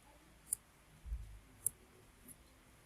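Sparse mouse clicks while centering data in an Excel spreadsheet, three sharp isolated clicks spaced about a second apart with a soft low thump between them, faint and alone in a quiet room.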